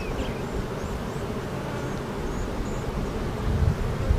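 Honey bees on a hive frame being inspected for swarm cells, a low continuous buzzing hum throughout with some outdoor rustling near the end.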